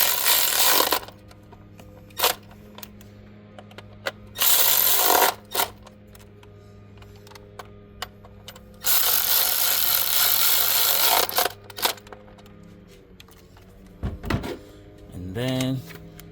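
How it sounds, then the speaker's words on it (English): An M12 cordless ratchet with a 10mm socket spins bolts during a spark plug job on a 2016 Nissan Murano. It gives several loud, close whirring bursts of about one to three seconds each, separated by quieter gaps. "we are going to use the M12. With the 10mm bolt just like so"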